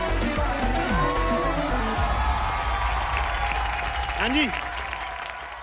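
An audience at a TV entertainment show claps loudly and evenly, then the applause thins and fades, with a few brief words spoken near the end.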